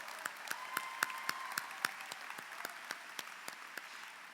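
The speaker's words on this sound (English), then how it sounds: "give them a round of applause." Scattered hand claps from a small group at a high school commencement ceremony, fairly quiet, sparse and uneven rather than a full ovation, with a faint steady tone underneath.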